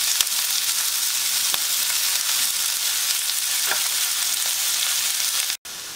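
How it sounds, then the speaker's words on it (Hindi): Onions and mushrooms frying over low heat in a pan for mushroom fried rice, a steady close hiss and sizzle with faint stirring clicks, running unbroken until a brief cut near the end. "लगातार तीन से चार मिनट हो चुका है धीमी आंच से प्याज और मशरूम को भूनते हुए"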